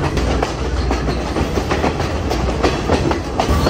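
A Sri Lankan train on the Ella to Nuwara Eliya line rattles steadily along the tracks, heard from inside a non-AC second-class coach, with loud, continuous rumbling and a rhythmic clickety-clack of wheels over rail joints.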